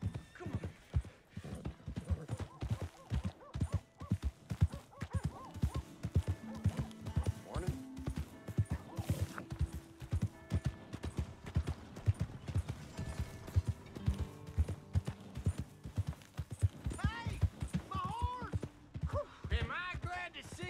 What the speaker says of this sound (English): Here's your horse back